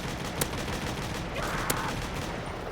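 Gunfire from an infinite-ammo weapon in a Call of Duty custom zombies map, heard as a steady wash of rapid shots with a couple of sharper cracks standing out.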